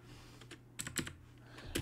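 Typing on a computer keyboard while writing Java code, a quiet run of irregular clicking keystrokes, several quick taps clustered together near the middle and end, with no speech over them.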